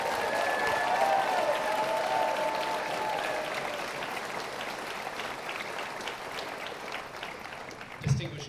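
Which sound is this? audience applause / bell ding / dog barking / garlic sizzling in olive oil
audience applause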